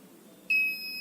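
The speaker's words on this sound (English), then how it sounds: "the beep sound will be continuous" After a brief quiet hum, an Arduino buzzer triggered by a PIR motion sensor starts a single high, steady electronic beep that holds on to the end, clear and close.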